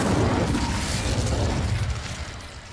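A fiery Incendio spell cast in Hogwarts Legacy, a loud, dense whooshing burst of flame that roars steadily and tapers slightly over nearly three seconds, close and alone.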